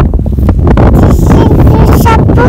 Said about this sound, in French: Eh oui, il y a du vent.